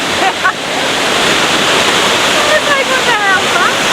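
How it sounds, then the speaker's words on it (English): Datanla Waterfall in Da Lat, Vietnam, gives off a loud, steady, close roar of falling water, with a few faint bird chirps above it. "That's at Datanla Waterfalls."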